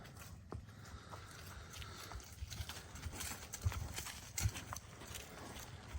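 A mare's hooves clip-clop in a steady, moderately close rhythm over faint background noise, with a couple of sharper, louder strikes near the end.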